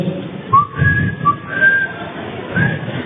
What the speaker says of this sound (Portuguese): dá uma assobiada